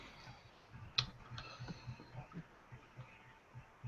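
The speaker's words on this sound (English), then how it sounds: "it's typing" Light clicking of keyboard typing, a quiet irregular patter of keystrokes with one sharper tap, close and faint against a soft background hiss.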